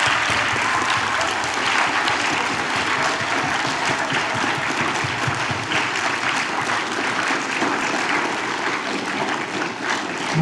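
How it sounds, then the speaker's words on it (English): An online meeting audience gives sustained, dense applause for two scholarship recipients, a loud continuous clapping wash that holds steady for about ten seconds with no talking. "So please give those two brothers a big round of applause."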